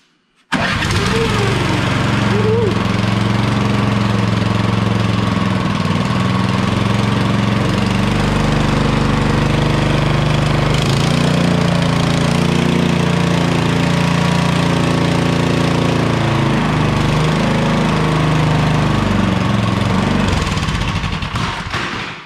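A Troy-Bilt Squall 2100 snowblower engine catches after a brief pull-start and then runs loud and steady close by, a rough, droning small-engine note that holds for about twenty seconds before cutting off.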